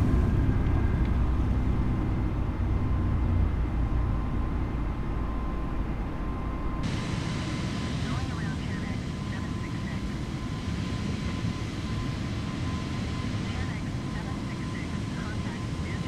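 An airliner takes off in Microsoft Flight Simulator 2020, a loud, steady engine roar that swells and shifts in tone partway through as the aircraft rotates and lifts off.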